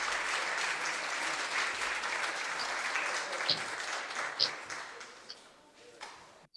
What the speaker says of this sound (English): We've got to give you a round of applause.